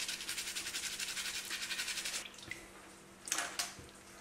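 Vintage Hasbro G.I. Joe General Hawk action figure parts scrubbed in a sink of warm water, with a rhythmic brushing swish for about two seconds followed by faint splashes and drips, quiet and close.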